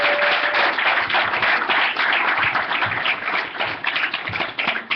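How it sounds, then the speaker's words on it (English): Audience applause at a startup pitch event, a loud, dense wash of many hands clapping that holds steady before thinning and tapering toward the end. "let's give him another round of applause."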